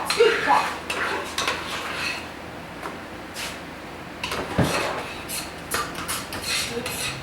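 Thick soap batter scooped and plopped into a mold during a soap-making class, giving a run of wet thuds and scraping clatters of utensils against the container, close by with no talking.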